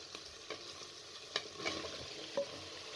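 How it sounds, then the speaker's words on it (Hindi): Spice masala cooks down with softened tomatoes in a pan for mutton keema, a soft, low sizzle with a few faint scraping strokes of a spoon, heard alone. "अब मसाले को अच्छे तरीके से आपने इस तरह भून लेना है"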